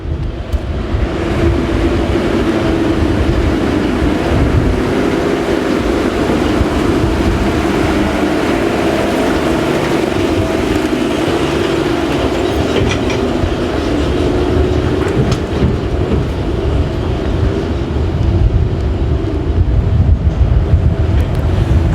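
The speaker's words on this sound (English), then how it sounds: "This is the train I was talking to you about." A train rolls past in Kavala, Greece, a steady loud rumble of rail wagons sustained for over twenty seconds with some wind buffeting the microphone and no talking.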